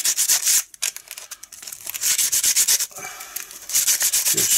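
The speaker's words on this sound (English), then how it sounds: "Just roughen up the tube on a bit of sandpaper" A pen tube is rubbed back and forth on sandpaper, making a loud, continuous rhythmic scratching and scuffing with only a brief pause near the start.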